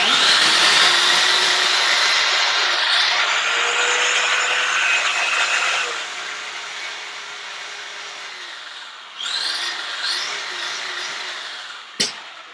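A blender whirs steadily as it purees pesto ingredients with olive oil into a creamy mix, loud and continuous, easing to a lower drone, then revving up again briefly before a sharp click near the end.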